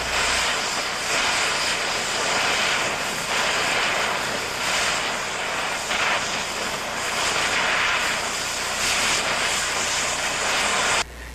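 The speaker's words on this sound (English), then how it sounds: "Back the torch away and ease off the cutting jet lever to slow down the cutting jet." An oxyacetylene torch cutting jet washes off metal, a loud, steady, full-band roaring hiss that holds continuously throughout with only slight surges.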